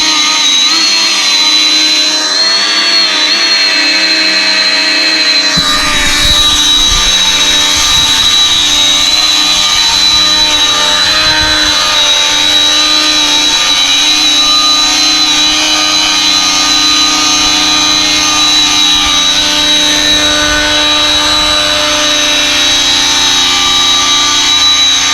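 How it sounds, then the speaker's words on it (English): An Arrma Infraction RC car spins its brand new tires with a loud, piercing electric motor whine. It holds a steady high pitch at full power, close and continuous throughout, with a slight shift in tone a few seconds in. "We're gonna just roast these tires."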